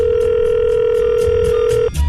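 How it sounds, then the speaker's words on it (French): A telephone ringing on a French radio phone-in game show, heard as a loud, steady electronic ring tone held for nearly two seconds before cutting off abruptly, with faint background hiss and no talk. "Vous entendez la sonnerie?"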